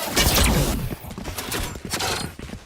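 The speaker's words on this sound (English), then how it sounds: "Flashbang." A flashbang goes off during a Valorant esports match, a loud burst amid layered game sounds and gunfire-like clatter, with commentators talking over it.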